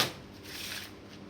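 Poker playing cards being shuffled by hand, a loose, scruffy riffle with a brief sharp burst at the start and then a continuous papery flutter, close and fairly quiet.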